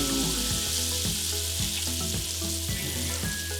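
Melted fat with a splash of Worcestershire sauce bubbling in a soup pot, a steady close sizzle and crackle that holds without pause and has no talk over it.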